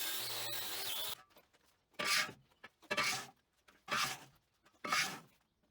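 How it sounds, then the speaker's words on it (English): A wire wheel cleans up freshly cut steel pieces for a lathe stand, giving four loud, close bursts of harsh abrasive rasping, each about half a second long, separated by brief pauses. "They are all cleaned up with a wire wheel."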